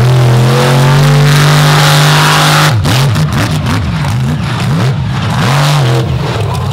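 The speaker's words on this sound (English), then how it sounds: "Hear the guttural thunk of that big Chevrolet engine." A big Chevrolet engine in a mud bog truck holds a loud steady roar, then revs hard in repeated rising and falling surges as the truck pushes through the pit.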